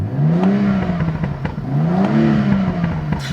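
A BMW M235 engine in Sport Plus mode revs up and down in two smooth swells, loud and close, with a throaty exhaust note.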